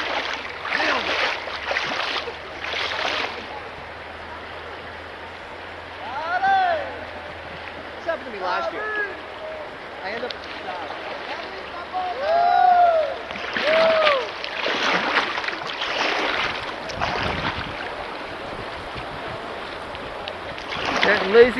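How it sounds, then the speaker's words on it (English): A boat running a rapid on the Deerfield River: steady rushing water with repeated louder splashing surges, heard close and continuous while people talk. "First rapid of the day."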